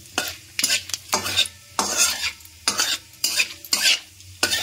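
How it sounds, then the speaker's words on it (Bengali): Whole cumin seeds crackle in hot oil while a spoon stirs them in short, repeated scraping strokes, each one a bright sizzling burst over a low steady hiss. "এবার ভালো করে তেলটা দিয়ে নাড়াচাড়া করে নেব ফোড়ন।"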